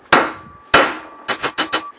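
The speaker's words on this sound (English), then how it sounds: "So I guess time to heat up the tip and pound away." A hammer strikes a heated metal tip on an anvil while forging a small tool: two ringing blows, then a quick burst of three or four lighter taps, sharp and close.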